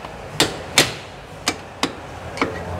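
Five sharp metallic taps and clicks ring out at irregular intervals as a screwdriver pushes a handbrake part into place from below, fairly close and loud over a low background hum, with no talking.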